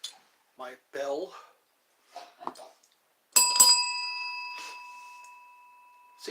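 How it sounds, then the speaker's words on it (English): A hand bell is rung indoors, giving one bright metallic strike that rings on and slowly fades, after a few short bits of soft speech. "my bell."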